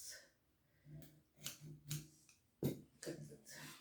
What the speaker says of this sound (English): Now we're going to use the scissors.